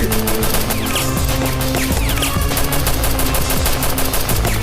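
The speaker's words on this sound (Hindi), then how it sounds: "चलाओ गोली।" Rapid bursts of gunfire in a TV drama action scene, dense and loud, cracking continuously throughout with no pauses and no voices.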